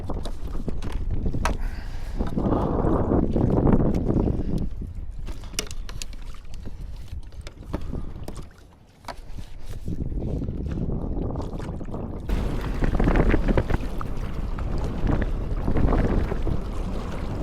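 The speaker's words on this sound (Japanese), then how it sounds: "海が荒れてきたのでね" Rough sea off western Izu after a typhoon, with strong wind buffeting the microphone around a fishing kayak; steady loud roaring gusts and water wash throughout, no speech.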